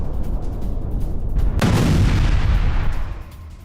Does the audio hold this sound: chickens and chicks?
no